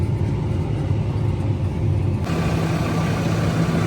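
A tractor engine drones steadily while discing a pea field, a constant low rumble heard from inside the cab with no pauses.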